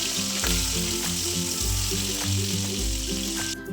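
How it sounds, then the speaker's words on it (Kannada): Four green chillies sizzle and fry in about three spoonfuls of hot oil in a pan, a steady close crackling hiss with a few brief stirring scrapes and no talk. "ಹೆಚ್ಚಿಟ್ಕೊಂಡಿರುವ 4 ಹಸಿಮೆಣಸನ್ನು ಹಾಕಿ ಫ್ರೈ ಮಾಡ್ಕೊಳ್ತಾ ಇದ್ದೀನಿ"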